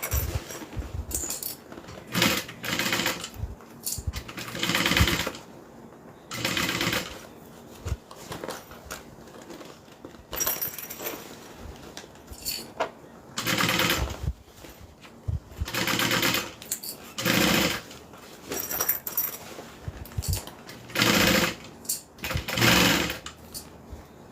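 A sewing machine stitching slowly through thick layers of fabric on a train case, running in repeated short bursts with pauses between them, close and clear with no talking.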